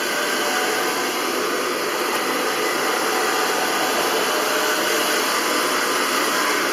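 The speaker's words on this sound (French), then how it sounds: "On le fait avec un sèche-cheveux" A hair dryer blows steadily and loudly at close range onto a washed computer keyboard, a constant whooshing roar with a faint whine, no pauses and no talking.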